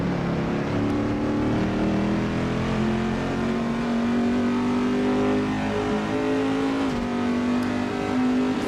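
A Corvette engine in the Assetto Corsa racing game drones loud and steady, its revs climbing and falling through gear shifts with a continuous, close, buzzing tone.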